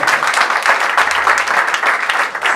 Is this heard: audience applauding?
yes